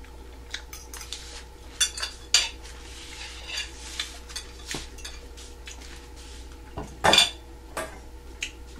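Utensil stirring pepper steak in a pan, with scattered scrapes and clinks of metal on cookware over a faint sizzle, a few sharper knocks standing out, close and fairly quiet with no talking.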